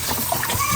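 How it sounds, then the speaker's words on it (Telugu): Running tap water splashes steadily as raw chicken is rinsed after being mixed with curd and salt, a continuous close wet splatter and slosh filling the whole moment. "నీళ్ళతో కూడా మళ్ళీ కలుపుతున్నాడు ట్యాప్ ఓపెన్ చేసి"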